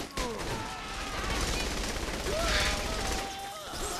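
Rapid gunfire in Saints Row: The Third, a dense burst of shots with overlapping crackles running through the clip amid game noise, while players shout and talk over it.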